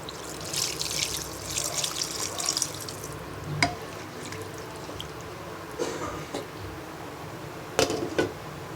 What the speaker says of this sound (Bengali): এবার পরিমাণ মতো পানি দিয়ে ঢাকনা দিয়ে ঢেকে রান্না করে নিব